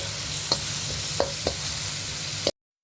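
Onions being sautéed in a pan for pasta sauce, a steady close sizzle broken by a few sharp clicks and taps of stirring, with no talking.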